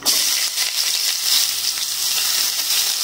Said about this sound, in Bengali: পেঁয়াজটা এবার আমি ভালো করে লাল করে ভেজে নেবো